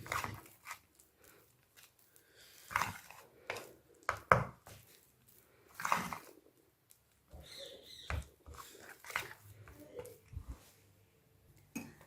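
Dahi phulki batter stirred by hand in a bowl, giving soft, irregular scrapes and taps that come and go at close range, fairly quiet.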